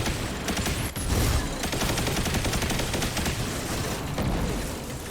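Dense, steady automatic gunfire from the Heir Apparent machine gun in Destiny 2, a continuous rattling barrage that runs unbroken for several seconds at a moderate level.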